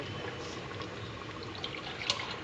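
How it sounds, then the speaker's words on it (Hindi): Water from a glass poured into a pot of cooking mutton with whole urad dal, a steady close trickle and gurgle with a couple of small splashes near the end. "अब इसके बाद हम लोग इसमें पानी ऐड कर रहे हैं 1 गिलास।"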